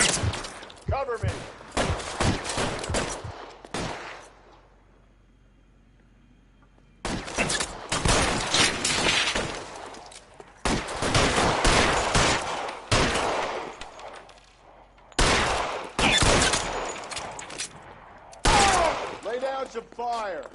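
Gunfire in a shootout in the video game L.A. Noire comes in dense bursts of rapid shots separated by quiet gaps, loud and close, with voices calling out between the volleys.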